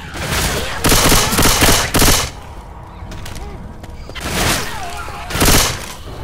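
Bursts of rapid gunfire from Left 4 Dead 2 shooters, a laser-sighted weapon among them, come in two loud clusters separated by a quieter lull in the middle, with a voice talking over parts of it.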